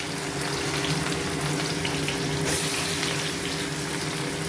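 Chopped onion hits hot cooking oil in a pan, giving a steady, close sizzling hiss that carries on evenly for several seconds.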